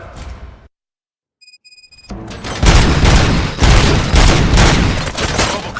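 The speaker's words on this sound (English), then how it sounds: "Gunshots? What's going on?" Gunfire in the RoboCop: Rogue City video game, a dense burst of loud shots and booms that erupts after a brief silence and electronic beeps, continuing as sustained heavy firing.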